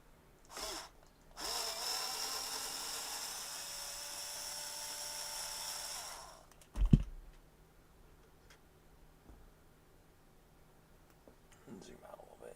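Power tool backing out a bolt: a loud, whining drill-like spin lasting several seconds, a sharp clunk after it, then quiet room tone.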